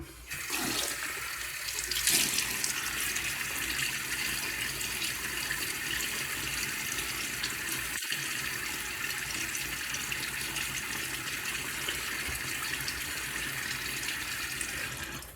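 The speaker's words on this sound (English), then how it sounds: "Let me get my face wet." Water runs steadily from a bathroom tap while a man wets his face before shaving, a constant close splashing hiss with a brief louder splash early and a sharp knock midway.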